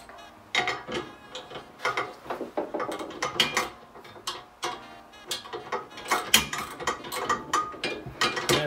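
Socket ratchet tightening a neoprene lock nut during a DR MT install, with a close run of quick clicking strokes in uneven bursts and short pauses.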